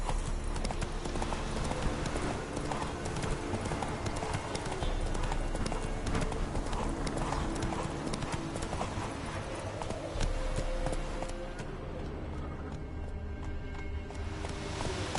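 Horse hooves gallop in The Witcher 3 video game, a fast, steady clip-clop of hoofbeats running continuously over a dense background of game sound.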